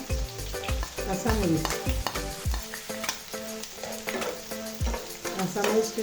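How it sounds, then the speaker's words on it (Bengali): Chopped onions hit hot oil in a pan and sizzle steadily while being stirred, with repeated scraping and clinking of a spatula against the pan, close and fairly loud. Coriander and pumpkin are part of the dish being cooked. No one speaks. "এখন দিয়ে দিব পেঁয়াজ কুচি দিলাম"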